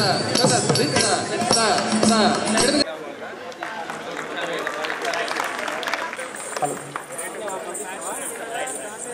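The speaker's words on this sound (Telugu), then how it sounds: "ఈ చప్పట్లు సరిపోవు." An audience applauds at the closing of a district-level TLM fair in Nizamabad, a dense burst of clapping for the first few seconds that fades into crowd chatter while a voice speaks over the room.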